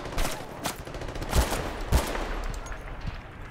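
Machine gun fire in Battlefield Bad Company 2, a handful of sharp, booming shots spaced irregularly over a few seconds, with heavier low thumps in the middle and a fading tail.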